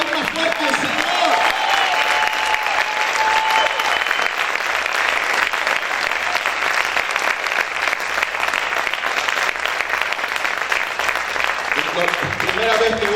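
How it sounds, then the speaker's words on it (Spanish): A church congregation claps loudly and steadily for over twelve seconds, a dense sustained wall of applause with scattered voices and shouts mixed in. "¿Cuántos pueden aplaudir más fuerte al Señor?"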